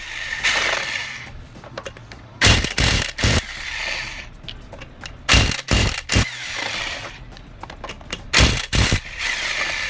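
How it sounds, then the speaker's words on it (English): A Chicago Electric impact wrench with a 21 mm socket removes the wheel nuts on a Nissan Altima. It fires three loud, close bursts of rapid hammering, separated by quieter pauses. "we're going to use this Chicago Electric impact wrench to remove the tires"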